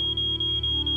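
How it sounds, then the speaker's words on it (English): An alarm clock in a Nancy Drew video game beeps in short, evenly spaced pulses over a steady electronic hum, near and alone. "Got that noise and the standard alarm clock beep beep beep noise."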